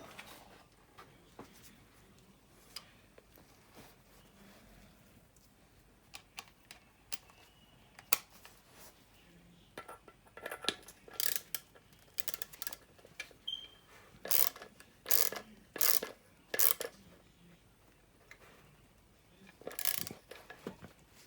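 Ratcheting clicks from a wrench tightening bolts on the water pump assembly of a Regal Raptor DD250 motorcycle, faint scattered ticks building to close bursts of rapid clicking.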